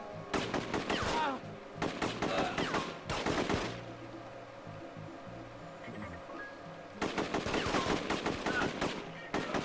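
Gunfire in The Getaway video game, loud bursts of rapid automatic shots in two clusters near the start, a single burst around the middle and a sustained volley at the end, with quieter game ambience between.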